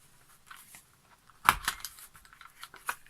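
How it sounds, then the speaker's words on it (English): A single sharp crunch of a hand punch biting through thick card, a close, brief snap followed by a few small rustling clicks of paper. "What I'm going to do is punch an hole in the centre."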